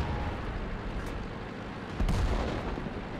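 A tank cannon in the World of Tanks game booms through a dense, rumbling battle mix, one heavy low thud landing about two seconds in over steady background roar.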